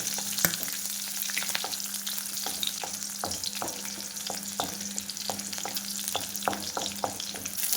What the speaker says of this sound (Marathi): आपली उभट चिरलेली हिरवी मिरची आणि हे छानपैकी आपल्याला फ्राय करून घ्यायचे आहे.